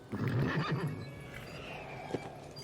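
A horse whinnies loudly up close, a shaky descending neigh followed by a short snort near the end.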